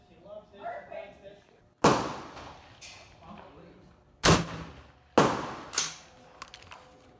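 Four sharp, loud gunshots from a 7mm International pistol firing 100-grain Sierra hollow-point rounds with a new scope, spaced several seconds apart with ringing decay, over faint background talk at an outdoor range.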